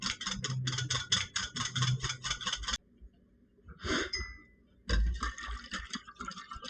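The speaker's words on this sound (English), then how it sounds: "the egg yolks, I'm going to mix them up with the whisk" A whisk beats egg yolks for a chocolate meringue pie filling, rapid rhythmic clicking against a bowl in bursts with a brief pause between them.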